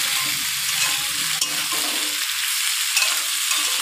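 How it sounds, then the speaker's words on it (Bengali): Vegetables fry in a pan with a ginger and cumin paste, giving off a loud, continuous hiss and crackle of sizzling oil, with occasional stirring scrapes close by and no talking. "ভালো করে ভেজে নিই"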